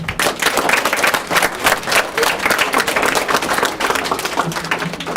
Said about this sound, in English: Let's give a nice round of applause to Dr. Michael Yazzulo.